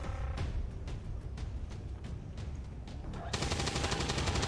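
Gunfire in XCOM 2 plays as a series of sharp, evenly spaced shots, several in quick succession, loud and close, followed by a brighter sustained burst at the end.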